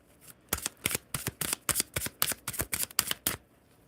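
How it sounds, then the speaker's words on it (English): Tarot cards are riffled and shuffled close by in quick repeated bursts, about a dozen crisp flutters in a steady rhythm, with no talking. "Sometimes I shuffle on the other side of the camera because it's easier for me"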